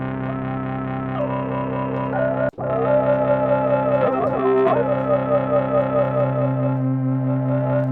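An audio plugin produces a distorted synth tone with a wah effect, the filter sweeping the harmonics up and down in a sustained buzzing note, briefly cutting out once before continuing alone.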